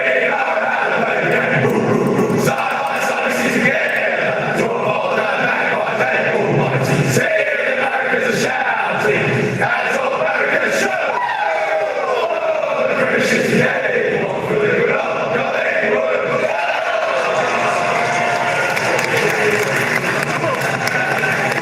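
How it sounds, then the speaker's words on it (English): A large crowd sings a club theme song in unison at an MCG Australian football match between Collingwood and Carlton, a broad, sustained wash of voices filling the stadium, loud and continuous with cheering mixed in. "Well, I could hear it, all the crowd singing in the background, but fantastic."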